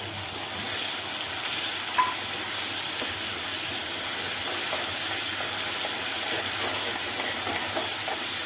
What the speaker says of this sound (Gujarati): એમાં નાખીએ આપણે ડુંગળીની પ્યુરી